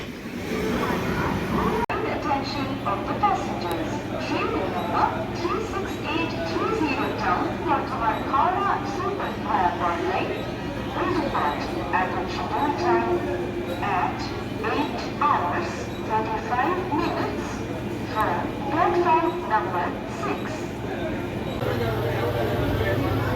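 A Bardhaman–Howrah chord line super EMU local train pulls out of Bardhaman station, its steady low rumble and rhythmic wheel clatter running throughout beneath close, ongoing talk from a person aboard.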